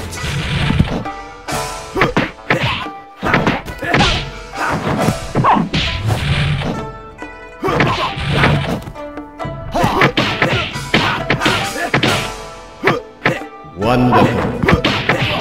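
Punches and kicks land in a martial arts fighting video game pitting Shaolin against Wu-Tang styles, rapid sharp whacks, thuds and swishes in dense bursts, loud and close.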